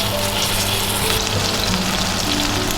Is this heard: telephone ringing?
no